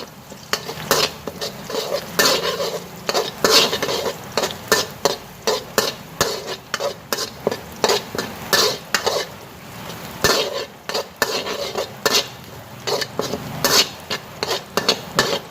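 Chopsticks scrape and clack against a pan as offal is stir-fried in hot oil with black pepper and garlic, a steady run of close, busy stirring strokes over a continuous sizzle, with no talking.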